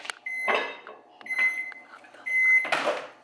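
A kitchen microwave oven finishes reheating leftovers and sounds three clear, sustained electronic beeps, close and loud, with a few short clunks and rustles of handling between them.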